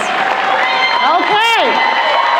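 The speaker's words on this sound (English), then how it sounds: "Stand up and give yourselves a round of applause." An audience cheers and shouts loudly in a continuous roar, with rising and falling voices whooping above the dense crowd noise.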